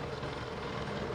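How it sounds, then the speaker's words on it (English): A helicopter heard outdoors in New England, a steady dense rotor drone that stays even and fairly loud, with no voices. "that's a helicopter"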